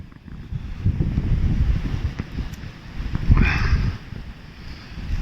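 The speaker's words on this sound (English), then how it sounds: "The wind is blowing overhead." Wind blows hard across an open field in a spring snowstorm in Ireland where cattle are outwintered, a steady roaring rush with gusts swelling and buffeting close to the microphone, no voices.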